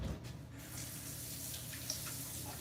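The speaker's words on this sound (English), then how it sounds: "Wash my hands again." Tap water runs steadily from a faucet into a sink during handwashing, a continuous close splashing wash with no talk over it.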